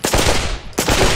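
Rapid gunfire from a firearm in the VR shooter Pavlov VR: two loud, close bursts of rattling shots separated by a short gap, with no talking.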